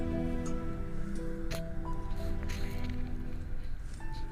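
Grated carrot, two carrots to a cup of leftover rice, fries in a pan with a soft, continuous sizzle and occasional light scraping and stirring, fairly quiet and with no talking.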